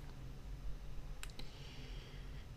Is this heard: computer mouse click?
yes